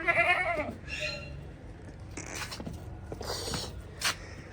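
A domestic goat bleats close by, with a wavering cry at the start and more bleats in the middle, over rustling and handling noises.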